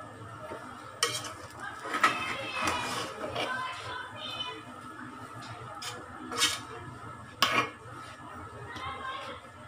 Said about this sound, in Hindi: इन्हें करते हैं अच्छे तरीके से मिक्स और फिर कर लेते हैं डिश आउट